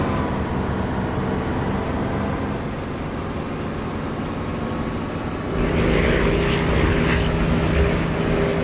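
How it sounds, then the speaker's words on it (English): A propeller aircraft engine drones steadily while landing in the DCS flight simulator game, the hum holding even before swelling noticeably louder about two-thirds through as the plane nears the runway. "As I come into land, you'll hear the engine volume pick up slightly due to reflected sound from the runway."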